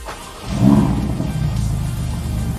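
A Ferrari Roma Spider starts up with a brief cranking catch, then its engine rises into a loud, close rumble and settles into a steady idle.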